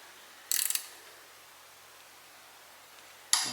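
A ratchet wrench clicks in a quick burst of several ticks while tightening a power steering motor mount on a Ski-Doo 850 E-TEC snowmobile, followed by a quiet pause and a second brief burst at the end.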